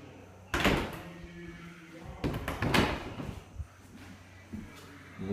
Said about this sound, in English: two-door closet here in this spare bedroom.